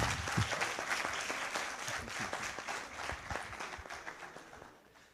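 Audience applause at a round-table session of an education science conference, dense clapping from a small crowd for a birthday, steady throughout and tapering off at the end.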